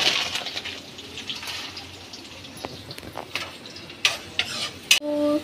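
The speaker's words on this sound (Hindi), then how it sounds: "ये प्याज को मैं ज़्यादा ब्राउन नहीं कर रही" Onions frying in a pan for an omelette, a steady close sizzle broken by scraping stirs of a spoon and a few sharp clinks near the end, with no voices.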